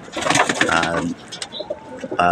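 A Jansen Cross Vandenbroek racing pigeon hen coos softly up close in a loft, a short throaty burbling call followed by quieter rustling and small sounds.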